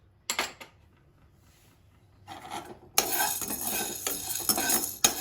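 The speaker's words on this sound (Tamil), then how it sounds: "ஓகே, கடலைப்பருப்பு வறுத்துக்கலாம்." Chana dal dry-roasting in a pan over moderate heat: short dry rattling, scraping bursts as the lentils are stirred, then a continuous gritty, rasping shuffle for the last couple of seconds, close by.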